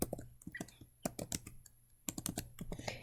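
Typing on a computer keyboard, with quick clusters of crisp key clicks broken by short pauses, near and clear against a quiet room.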